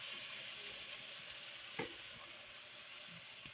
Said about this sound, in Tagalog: Haluin lamang natin.